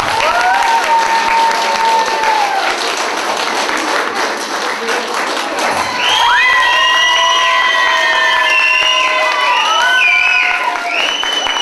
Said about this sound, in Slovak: Toto bol slabý potlesk, lebo oni neprichádzajú, takže ešte väčší potlesk.